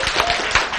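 Brief applause from a lecture audience, a quick flurry of claps lasting under a second with no talking.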